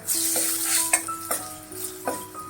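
Onion garlic masala frying in a pan for Kolhapuri misal, a close sizzle broken by several sharp metallic scrapes and clinks of a spoon stirring against the pan.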